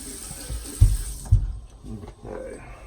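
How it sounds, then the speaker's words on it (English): Tap water runs into a sink while a face is wetted before shaving, with close splashes and a couple of louder slaps of water, after which the flow stops. "Let me go ahead and wet my face off here real quick"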